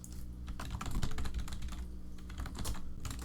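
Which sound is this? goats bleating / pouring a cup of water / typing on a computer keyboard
typing on a computer keyboard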